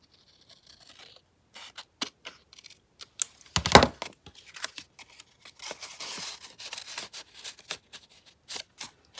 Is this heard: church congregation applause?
no